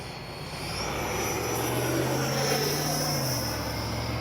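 An E-flite Viper 90mm electric ducted-fan RC jet flies by, its whining turbine-like roar swelling loud as it approaches and then shifting in pitch as it passes, with no voices.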